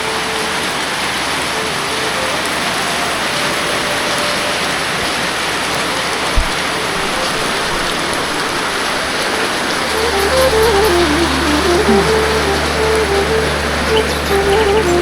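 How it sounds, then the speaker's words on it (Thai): Steady, heavy rain falls in the rural countryside during the rainy season, a loud continuous hiss. A low engine-like hum joins in partway through. "โอ้ยฝนนี่ก็ได้"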